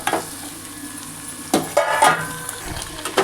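Potatoes and tomatoes frying in a pan for a besan curry, a steady close sizzle broken by a few scraping stirs of a spoon against the pan.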